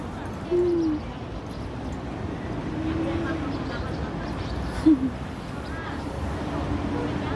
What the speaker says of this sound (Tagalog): Ang daming kalapati dito.